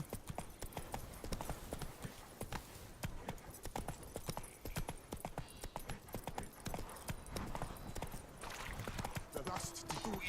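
Roach, Geralt's horse in The Witcher 3, gallops with steady rapid clip-clop hoofbeats close up, under game music and effects, with a voice talking at times.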